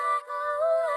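A dry vocal chop sample from Arcade with no effects applied, a short sustained sung tone with a brief dip partway through, clean and alone in an Afrobeats production session in Studio One 6.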